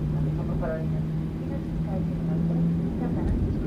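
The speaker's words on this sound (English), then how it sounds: "If you guys heard that, that's the exact same plane as mine." A Boeing 737-800 airliner gives off a steady, low engine drone with a faint sustained hum, heard continuously beneath people talking.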